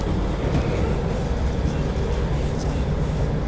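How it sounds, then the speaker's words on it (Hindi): A Vande Bharat Express rolls at speed past the Ajmer Sealdah train on a parallel line, heard from on board as a loud, continuous rushing rumble with steady wheel and track noise. "रानीगंज पे पैरेलल ओवरटेक मार रहे हैं हम लोग अजमेर सियालदा को"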